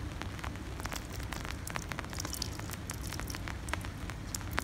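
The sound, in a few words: spring rain dripping outdoors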